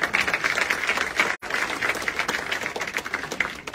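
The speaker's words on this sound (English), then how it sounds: "we're going to give you a round of applause" Audience applause at a VIP style show for boutique customers, a steady dense patter of many hands clapping, fairly loud and sustained with one brief gap, no talk over it.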